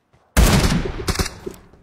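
Gunfire in a shooting video game, a sudden loud burst of rapid shots that starts abruptly and fades over about a second and a half, close and alone with no talk.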